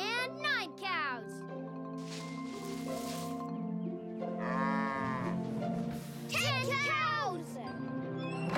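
Cartoon cows moo repeatedly in a children's animated counting episode, the bellows mixed with bright character voices and music; some moos come from the voices themselves, imitating the animals.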